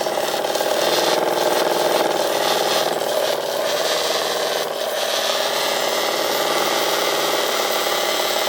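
The St.Bat model engine runs at about 40 psi of gas, a loud, continuous fast rasping churn with a rapid even beat that holds steady throughout, with no voices.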